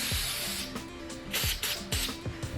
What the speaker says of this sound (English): And I'm gonna spray the back side of it too.